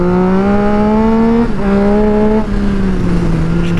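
Triumph Street Triple 675 motorcycle ridden at night, its exhaust holding a loud, steady engine drone that dips briefly between gear changes, then settles into a slightly lower cruising tone.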